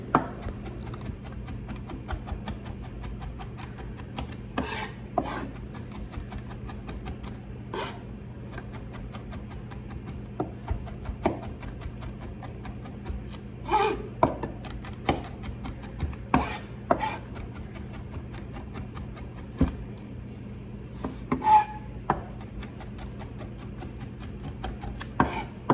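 Knife rapidly mincing garlic with salt on a cutting board, a steady fine tapping rhythm close up with sharper scraping strokes now and then, continuing without pause.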